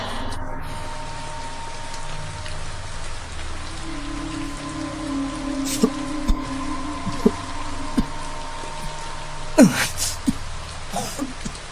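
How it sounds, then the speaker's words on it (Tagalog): Steady rain patters on a surface throughout, a dense continuous hiss with scattered louder drops and a few brief sharp sounds near the end, with no talking. "Isang ulan lang naman yun."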